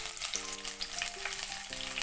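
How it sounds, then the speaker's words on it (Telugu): Onion, dried red chillies and garlic cloves fry in hot oil for a tempering, giving a close, steady crackling sizzle with faint stirring, no voices. "తర్వాత ఉల్లిపాయని, ఎండుమిర్చిని, వెల్లుల్లి రెమ్మల్ని వేసేసానండి."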